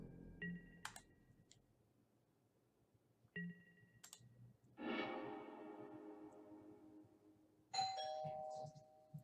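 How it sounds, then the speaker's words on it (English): A doorbell rings several times with gaps between chimes, fairly faint and echoing, in an otherwise quiet room. "Oh, and a ring on the doorbell."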